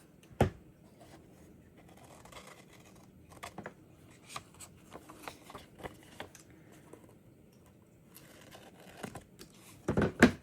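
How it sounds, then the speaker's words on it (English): Scissors snip a paper flap off a card-making kit journal, a run of light, scattered clicks and crisp cuts spread across the stretch, with sharper louder snips near the start and end and no talking. "I'm going to use my scissors and just cut this flap"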